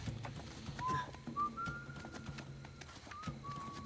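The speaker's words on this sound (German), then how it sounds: "Ey, wer pfeift denn hier?" Someone whistles short, clear rising notes in the Uncharted 4 game on PS4, faint and spaced out over quiet background clatter and footsteps, with no talk over it.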